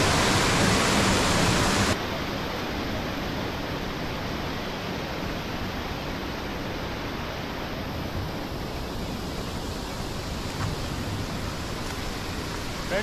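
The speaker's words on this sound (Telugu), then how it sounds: "ఫ్రెండ్స్, మనం అయితే వాటర్ ఫాల్స్ దగ్గరికి వచ్చేసాము." Kuntala waterfall in Telangana roars in a steady, dense rush of falling water heard close by, loud and unbroken throughout with no talking.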